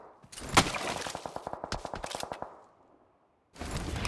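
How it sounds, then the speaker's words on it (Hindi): Video game gunfire rattles out as a rapid automatic burst of evenly spaced shots after a sharp single crack, then stops into silence before another noisy stretch begins. "यहाँ पे वो मेरे ऊपर फायरिंग करता है"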